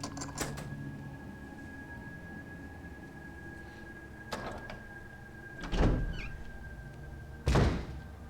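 In Resident Evil HD Remaster, a locked door gives a few heavy clunks and thuds, spaced apart and fairly close, over a quiet steady ambient hum.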